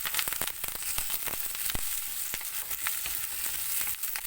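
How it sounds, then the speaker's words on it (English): Chopped onion and fresh curry leaves sauté in hot oil, a dense, even frying hiss dotted with sharp crackles and spits, close and continuous for a few seconds. "saute in the oil for at least 3 minutes"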